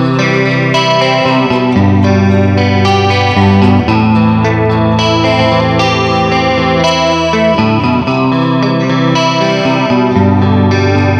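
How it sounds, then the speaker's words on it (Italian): A Jet Guitars Telecaster electric guitar with bridge and neck pickups blended plays a continuous run of notes and chords through chorus-like, slightly overdriven effects, loud and full, with no voices. "Se andiamo a miscelarli entrambi, il suono comincia a essere un po' più corposo."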